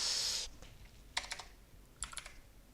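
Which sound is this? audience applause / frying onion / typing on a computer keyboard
typing on a computer keyboard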